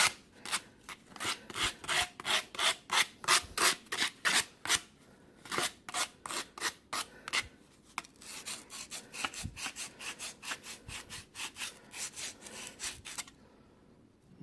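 A file rasps in quick, even back-and-forth strokes against a burr on a brass trumpet tuning slide, close and crisp, pausing briefly midway before a second run of strokes.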